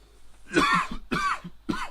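Three harsh, throaty coughs in quick succession, close and loud, with brief gaps between them.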